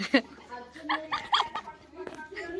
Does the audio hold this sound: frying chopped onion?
no